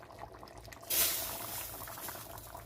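Kimchi cabbage soup with meatballs boiling in a pot: a quiet bubbling bed, then a sudden loud hissing surge just before one second that settles into a steady, close simmering rush.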